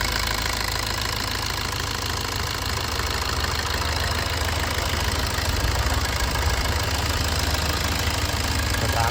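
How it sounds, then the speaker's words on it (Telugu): A tractor passes close by, its diesel engine giving a steady, knocking rumble that holds at an even loudness throughout, with no talking. "ట్రాక్టర్ అన్న పోతున్నాడు పక్క నుంచి,"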